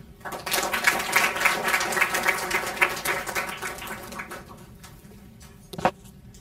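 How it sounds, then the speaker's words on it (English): Audience applause at an anniversary celebration event: a crowd claps in a moderate, echoing burst that tapers off after about four seconds, followed by a brief thump. "A big round of applause for all the beautiful words."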